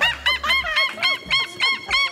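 A person imitates seagull calls with a rapid series of about seven loud, nasal honking squawks. The imitation sounds more like a goose or hen than a gull.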